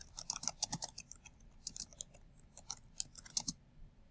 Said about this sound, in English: And then you just type your comment.